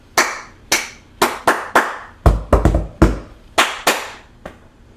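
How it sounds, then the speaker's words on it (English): Hands clap a rhythm in a music lesson at home, sharp and close, with about a dozen claps in uneven groups and quick bursts between pauses. "We started with our clapping."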